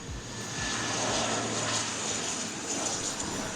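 Landing aircraft roars past at close range, a loud, steady broadband engine rumble and whine sustained throughout.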